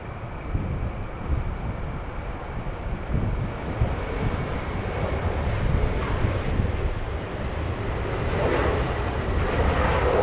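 A WestJet airliner bound for Calgary takes off from Los Angeles airport, its broad jet-engine roar steady and fairly loud, swelling slightly toward the end.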